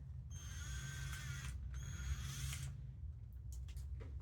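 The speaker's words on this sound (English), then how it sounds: "Alright, so we drill into that, and now we drill right into this guy" A small drill bit bores into a pumpkin with a whirring, high-pitched motor whine in two short bursts, then stops, leaving faint clicks and handling noise. Nobody talks.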